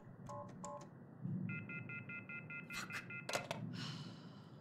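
Telephone dialing in the horror game The Mortuary Assistant: a few quick keypad beeps, then a steady run of evenly spaced tones, followed by clicks and handset clatter in a quiet room.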